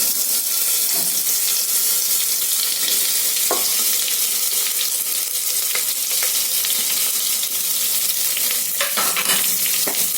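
Sliced onions frying in hot ghee with plenty of curry leaves for ghee rice, a close, steady and loud crackling sizzle throughout, punctuated by a few brief spoon scrapes and taps from stirring, with no voices.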